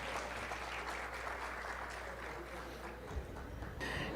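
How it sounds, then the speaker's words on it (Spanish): Steady applause from an audience fills the room at a book launch, honouring the authors Jorge Mario and Ángela María Muñoz Rosero, moderately distant and even throughout with no voices over it. "Un aplauso para Jorge Mario"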